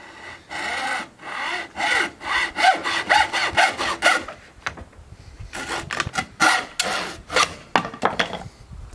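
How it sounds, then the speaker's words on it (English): A hacksaw cuts through a length of bamboo just above the seam, with rapid, loud rasping strokes back and forth, a brief pause midway, then another run of strokes to the end. "We're going to use a hacksaw."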